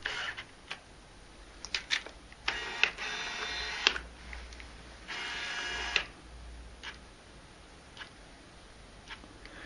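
Autofocus motor of a Nikon 70-210mm f4 lens on a Nikon D7000 camera, heard as a series of short mechanical whirring bursts and clicks, close and fairly quiet, with pauses between focusing runs.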